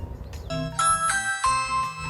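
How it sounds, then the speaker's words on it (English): A bright two-tone electronic Ring doorbell chime rings out clearly from an Amazon Echo Show 5, a quick ding-dong with a short ringing tail, loud and close. "if there's some notification on your Ring doorbell"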